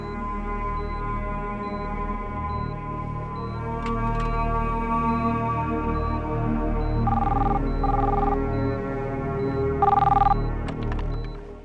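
A telephone rings repeatedly in steady electronic bursts, loud and close, with a few brighter tones cutting in near the end and no talking.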